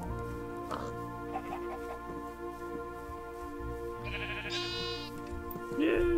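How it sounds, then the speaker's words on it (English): Minecraft sheep bleating in a survival world, version 1.19.4, several bleats near the end over steady background game music and some chicken clucks. "I know where sheep is."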